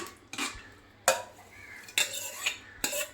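Cooked lentils being mixed into the pot for a tender jackfruit and lentil curry, a few distinct spoon knocks and scrapes against a metal vessel spaced through a quiet background.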